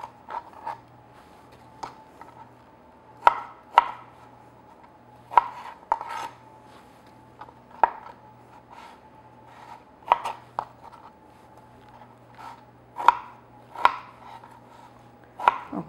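Knife chopping apples and pears into one-inch chunks on a cutting board, steady single thuds spaced about a second apart with a few sharper knocks, close and alone against a quiet background hum.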